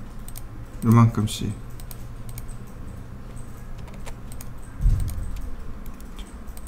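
Computer keyboard keys click a few times while building a living-room model in SketchUp, soft and close, mostly under someone speaking.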